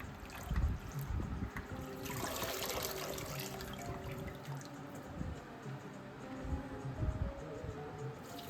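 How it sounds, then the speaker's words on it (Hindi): Coriander is washed with water in a salad spinner, giving faint, close trickling and splashing with a few soft knocks and swirls. "स्पिनर में ही डाल करके डायरेक्टली इसको वॉश कर लें"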